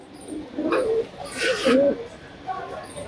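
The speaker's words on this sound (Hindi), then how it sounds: "कलसरे कबूतर आप देख रहे हैं इब्राहिम भाई के यहाँ" Kalsara pigeons in a breeder's loft give soft, low coos in short phrases, heard beneath someone talking nearby.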